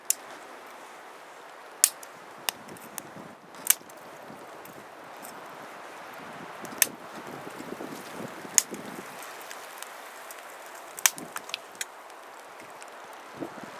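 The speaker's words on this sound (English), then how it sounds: "the wind is coming up through here" Wind gusting through an outdoor winter bush cooking site around a small campfire under a Ghillie kettle, a steady low rush with scattered faint crackles and snaps throughout.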